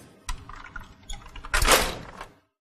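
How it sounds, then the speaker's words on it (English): Door A of a Xerox Phaser 5500 laser printer is pushed shut after a fuser replacement, giving a few plastic clicks and rattles, then one fuller sliding thunk as it latches, followed by silence. "Now close door A."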